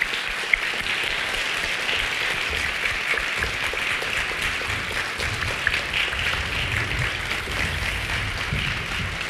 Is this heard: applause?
yes